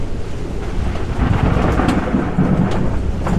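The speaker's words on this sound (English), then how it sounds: "So we are currently weathering crazy thunderstorms right now." Heavy thunderstorm lashing a sailboat at anchor, with loud continuous rain drumming and rumbling thunder rolling through for several seconds, no voices.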